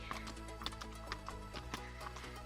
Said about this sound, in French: Les chevaux sont arrivés vers 5 heures à peu près.